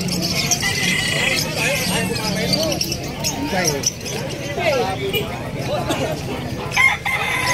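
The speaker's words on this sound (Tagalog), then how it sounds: "Yung mga manoks. Yung mga goose." Chickens and roosters at a pet market, crowing and clucking amid a dense, noisy crowd backdrop, with a person talking nearby throughout.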